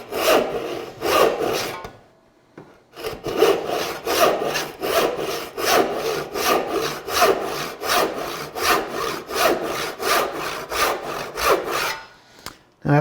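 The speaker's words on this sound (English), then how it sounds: "having that solid wall to sit my saw against, get it started in exactly the right spot, really helps to make these cuts precise" Hand saw cutting wood for a half-lap joint, the blade set against a solid wall: steady rhythmic back-and-forth rasping strokes, close and loud, with a brief pause before the sawing resumes.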